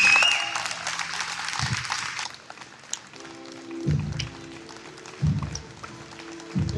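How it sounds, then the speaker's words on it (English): Applause at a rally against censorship, a burst of clapping at the start that fades after two seconds, leaving sparse claps and low thumps in a quieter room. "Big round of applause, ladies and gentlemen."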